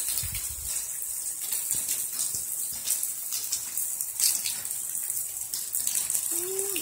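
Floodwater rushes through neighborhood streets after a hurricane in Arizona, a steady broad hiss of flowing water heard from a distance with no voices over it.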